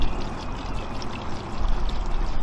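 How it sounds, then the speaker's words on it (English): Concentrated pet turf cleaner pours into a spray bottle in a steady, close liquid stream with a gurgling splash, loud and continuous without talk. "pour your concentrate directly into the bottle"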